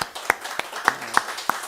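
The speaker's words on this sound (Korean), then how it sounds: "우리 어른들 석훈이를 위해서 박수 한번 쳐주시죠." A few sparse claps ring out in a church for a young drummer, about five separate sharp hand claps spaced at a slow, uneven rhythm, fairly close and not building into full applause.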